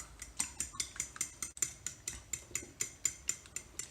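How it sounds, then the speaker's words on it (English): A fork whisks egg in a bowl to make French toast batter, producing a quick, regular series of clinking taps against the bowl, about four per second, close and clear. "Start to break the egg up"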